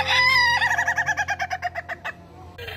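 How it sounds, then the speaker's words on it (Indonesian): A toy rooster gives an electronic crow, followed by a rapid run of rhythmic clucking pulses, then a short burst of tinny noise at the end. "Wadidaw, ada mainan ayam pejantan"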